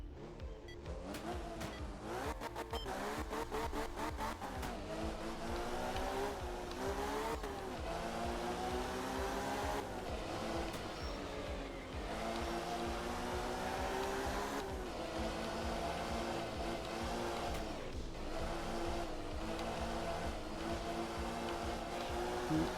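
A rally car's engine revs and surges while it drifts through a stage in the game Art of Rally, rising and falling in pitch with gear changes and throttle lifts, loud and continuous with no voices.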